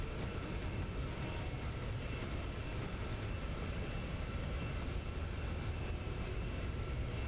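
Steady, loud roar of a jet aircraft engine in the X-Plane 11 flight simulator, a continuous broadband drone with a high whine, running without pause and free of talk.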